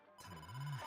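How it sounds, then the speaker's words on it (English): A phone rings in the video game AI: The Somnium Files, a single short electronic ring tone, faint and alone. "Oh, I'm getting a phone call."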